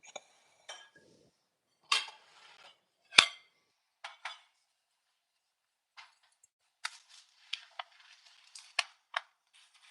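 Dishes and a bowl clatter and clink in a kitchen in short, sharp, scattered knocks, close and fairly quiet, with stretches of near silence between them.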